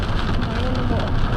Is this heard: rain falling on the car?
yes